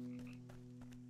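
Frog croaking in the video game Ikonei Island: a steady, close low croak that holds across the clip, with a couple of brief soft accents layered over it and no talking.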